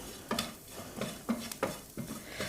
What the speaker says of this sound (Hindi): कसूरी मेथी को डाल के हमें अच्छे से भून लेना है